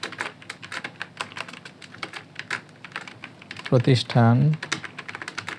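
Rapid clicking of typing on a computer keyboard runs throughout at a steady close pace, with a brief spoken word breaking in near the end.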